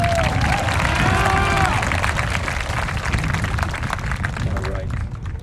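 A crowd applauds and cheers for a presenter at a high school marching band summer showcase. Loud, dense clapping and crowd noise are mixed with voices throughout.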